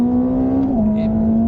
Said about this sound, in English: the acceleration is probably the most defining thing about this car. It pulls